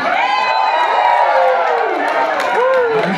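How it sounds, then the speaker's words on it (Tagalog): A loud crowd at a raffle event shouts and cheers together in a sustained, excited roar, with a few higher voices rising above the mass near the end. "pwede pa mo makahingi na malakas na sigawan?"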